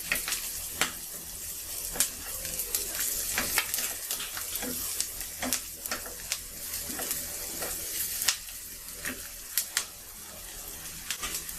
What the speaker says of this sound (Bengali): এখন আমি ভালো করে একটু ভাজবো, পেঁয়াজটা একটু বাদামি করে ভাজবো।